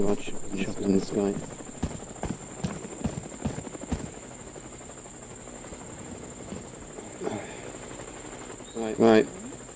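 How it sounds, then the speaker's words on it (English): A helicopter flies overhead in the video game War Dust, a steady whirring drone with bursts of gunfire and impacts, under voices. "There's a chopper, chopper in the sky."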